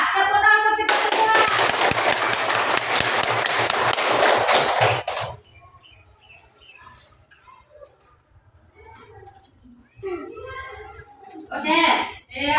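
A classroom of children claps together for about four seconds in a loud, dense burst, then it stops abruptly and quieter voices and talking follow.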